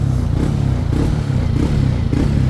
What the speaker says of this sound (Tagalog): Magpainit muna tayo ng makina.